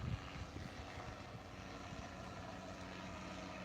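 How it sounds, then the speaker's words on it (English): A helicopter flying over a beach on the Black Sea gives off a faint, steady rumble from somewhere off in the distance, with no talking heard. "That's a helicopter that is over there"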